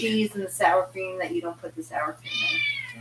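A house cat gives a drawn-out meow in a home kitchen where chili is cooking, coming clearly right after two people finish talking about the recipe.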